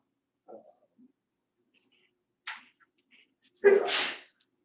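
At a board retreat meeting a person sneezes once, a sharp, fairly close burst after a short catch of breath, set against a quiet room with a few faint murmurs before it.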